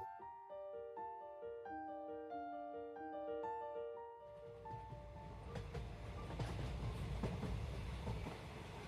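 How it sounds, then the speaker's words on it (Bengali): A train runs on the main line: after a short plucked melody, a continuous rumbling roar with rattling clatter starts about halfway through and grows slightly louder toward the end. "মেইন লাইনে লাস্ট ট্রেন"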